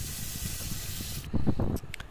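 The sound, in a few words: frying prawns in oil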